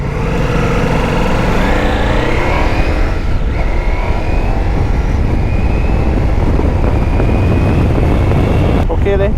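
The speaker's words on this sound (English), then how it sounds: "It's rather quiet actually, from what I would expected from Ducati, you know, being obnoxiously loud." A Ducati Multistrada V4S motorcycle being ridden: a continuous, loud engine drone mixed with rushing wind noise, steady throughout and close to the rider.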